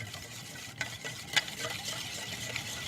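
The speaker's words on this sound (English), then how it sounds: "while I keep whisking this" Whisk working through an apple cider vinegar dressing with fresh thyme, sugar and a little oil: a steady, close scraping swirl with a couple of sharp clinks against the bowl, and no voices.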